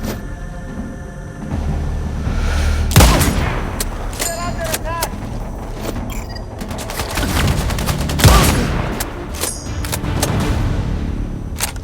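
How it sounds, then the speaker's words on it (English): Gunfire in the video game Sniper Ghost Warrior Contracts 2: several sharp, loud shots and bursts crack out over a busy battlefield ambience with rumbling background noise, with voices heard in between. "I hear shots nearby"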